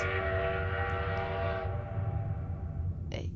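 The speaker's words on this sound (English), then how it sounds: "The rumbling of departure, her steam train echoed in her memories." A steam train rumbling as it departs in a video game, a low continuous rumble under a sustained tonal whistle that fades, followed by a brief higher whistle blast near the end.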